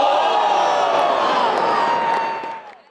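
An Australian cricket crowd cheers during a Test against England, a broad, steady roar of massed voices that carries on for a few seconds before fading at the end.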